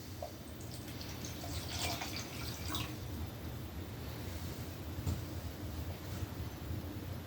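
Water pours and trickles faintly into a black jar, 200 milliliters, a soft continuous splashing with a few brighter drips, quiet and close.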